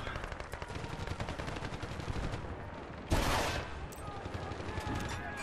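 Automatic machine gun fire from a shooter match in Battlefield: Bad Company 2, rapid bursts of gunshots in dense game action with a loud blast near the middle, while a player talks over it.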